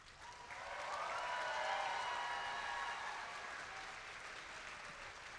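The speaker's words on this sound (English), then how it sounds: "I want you all to give a big round of applause to your parents and your" A large crowd at a district championship opening ceremony gives sustained applause, swelling after a moment, then holding steady and fading slightly, heard from some distance.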